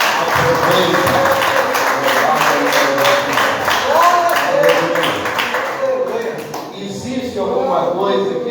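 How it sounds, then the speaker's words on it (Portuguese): A church congregation claps loudly for Jesus during a Portuguese-language worship service. The dense, sustained applause blends with voices and music, then thins out and fades after about six seconds. "se você sentir vontade de bater uma salva de palmas bem forte para Jesus"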